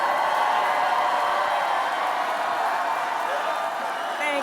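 An enthusiastic crowd of about 3,000 supporters roars a sustained, loud welcome for presidential candidate Kamala Harris at a 2024 campaign rally, a dense wash of cheering and whoops throughout.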